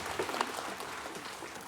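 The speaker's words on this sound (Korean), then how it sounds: "박수를 하나님께 드리겠습니다." A church congregation applauding during a worship service, a short, moderately faint burst of clapping.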